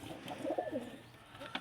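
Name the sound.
pigeons cooing in a pigeon loft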